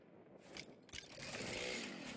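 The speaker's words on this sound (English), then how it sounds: "Chainsaw time." A chainsaw in the video game Satisfactory fires up with a sputtering burst, then settles into a steady, loud buzzing drone that carries to the end.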